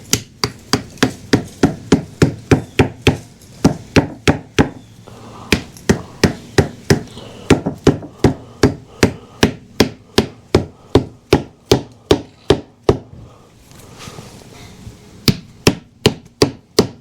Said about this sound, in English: I guess I'm going to get a little hammer and tap it on there.